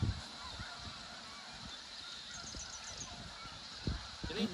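Distant honking from a leucistic specklebelly goose in the field, faint, with rapid calls in a short series mid-clip over a low background rumble and a few nearby knocks.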